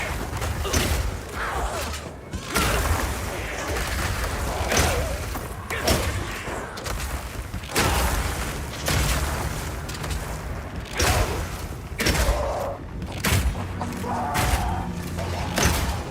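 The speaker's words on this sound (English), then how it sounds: "Now I can fill up this area with ice walls, then shoot them with armor-piercing Burst Shot for a huge amount of damage" Armor-piercing Burst Shot arrows repeatedly blast ice walls in Path of Exile 2, a dense barrage of loud booming thuds and shattering impacts that continues without pause, layered over a steady game soundtrack.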